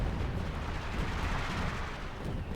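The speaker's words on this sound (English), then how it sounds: "But artillery being deployed as well here." Continuous dense rumbling barrage of artillery fire in Company of Heroes 2, heavy low-end booms blending into a steady roar with no clear gaps, fairly loud throughout.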